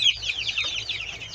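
Chickens in a crowded Brazilian backyard coop full of chicks, with silkie hens and a rooster, make a steady chorus of high, close clucking and peeping with no talking.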